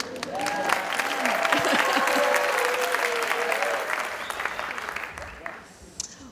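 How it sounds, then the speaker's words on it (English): Audience applauding at the close of a conservation talk at Seeds Puyehue 2024, sustained dense clapping that swells, holds for several seconds and then thins out, with a few voices mixed in. "please at the very end, clap your hands"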